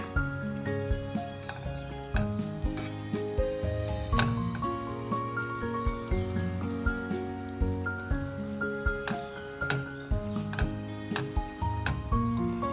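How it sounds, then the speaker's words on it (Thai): Korean bean-filled pancake frying in a pan, a steady crackling sizzle with scattered pops and spatters running throughout at moderate level, with no voices. "เราก็จะทอดให้เหลืองพอประมาณนะคะ"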